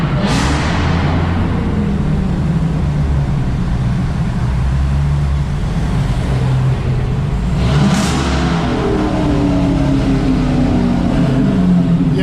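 A Dodge Hellcat engine drones steadily and then revs up sharply twice, with a throaty roar beneath a continuous rumble.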